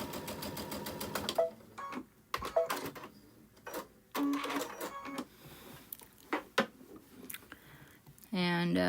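A sewing machine stitching fabric in short bursts of rapid mechanical whirring, separated by pauses, clicks and handling noise, with a brief stretch of talk near the end.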